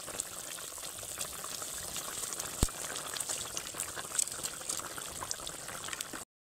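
Fish curry gravy boiling hard in a pot, a continuous bubbling and popping at close range with scattered sharper pops, holding steady for about six seconds before cutting off abruptly, with no voices.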